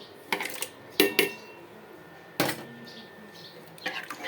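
Tomatoes and coriander leaves being added to dal in a pot, with sharp clinks and clatters of a utensil against cookware in a few separate bursts over a quiet kitchen background.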